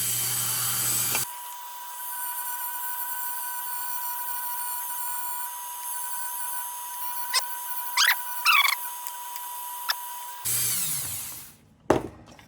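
A rotary tool bit grinds the bottom of a RAYO No.100 lantern crown in two short, high, whining bursts near the start and end. A long near-quiet stretch in between carries only faint tones and light clicks.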